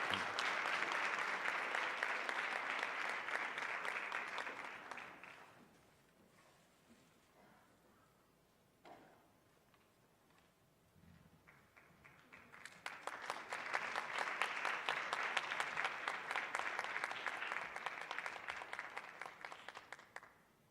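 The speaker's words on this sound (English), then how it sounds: "And everybody give a big round of applause." Applause from the audience at a National Honor Society induction ceremony, a full sustained round of clapping that dies away into a quiet stretch, then swells again into a second long burst.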